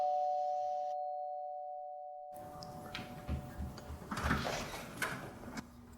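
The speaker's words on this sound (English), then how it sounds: "Is that the doorbell?" A steady electronic ring tone sounds for about two seconds, then silence, followed by rustling movement and scattered knocks nearby.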